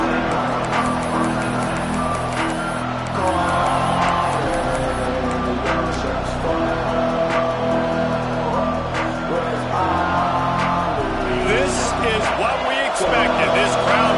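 Stadium crowd noise at a Miami vs Penn State college football game, a steady loud roar filling the whole stretch with scattered cheers, horns and bursts of noise, while an announcer talks over it.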